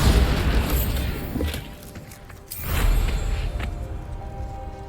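A spell blast from the Bombarda charm in Hogwarts Legacy, a deep low boom near the start and another heavy thud midway, rumbling over a dense game ambience.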